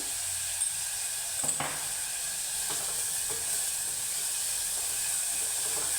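Onion frying with salt in a pan for a whole masoor lentil dish, a steady close sizzle and hiss throughout with a few soft stirring scrapes, no voices.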